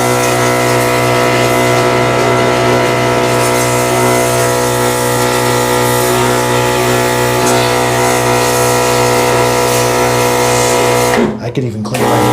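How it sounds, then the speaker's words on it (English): A Fanttik NB8 cordless electric sprayer runs while misting a shower drain, its motor making a loud, steady, humming whine that holds unbroken for about eleven seconds before cutting off abruptly near the end. "I can adjust the pressure to a fine mist."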